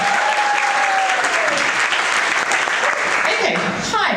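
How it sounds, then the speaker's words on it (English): An audience at a Nerd Nite talk claps for speaker Beck, a dense, loud, sustained burst of applause filling the room with a few faint voices and whoops within it. "Big round of applause for Beck."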